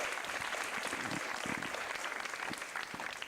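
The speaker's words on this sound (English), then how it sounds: "So give yourselves a round of applause, please." Steady applause from a theater audience at a holiday variety show, a dense, even wash of clapping held at moderate distance throughout, with no voices standing out.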